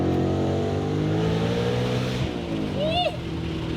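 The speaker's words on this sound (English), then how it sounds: "Just enough supercharger sound." A supercharged 2026 Mustang RTR Spec 5 engine roars loud and close as it revs, holding a steady drone before the pitch shifts and rises again, with a voice shouting briefly over it.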